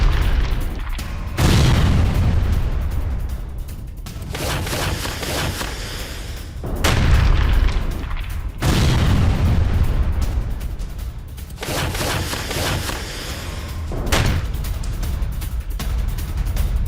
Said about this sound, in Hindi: यूक्रेन पर MLRS से रूसी स्ट्राइक की खबर सामने आई है। यूक्रेनी इलाकों पर गोले बरसाए गए।